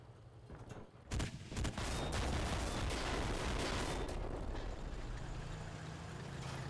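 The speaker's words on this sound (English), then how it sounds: "So this tank only has like a machine gun." Tank machine gun fire in the video game Enlisted, a loud dense roar of continuous automatic fire kicking in after a quieter opening second and running steadily to the end.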